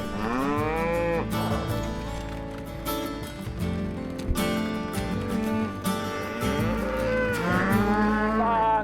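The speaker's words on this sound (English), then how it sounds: "The cattle march down the lonely country road" Herd of cattle on a lonely country road, several cows mooing loudly and repeatedly in long drawn-out calls that overlap one another, close by and continuous with no talk.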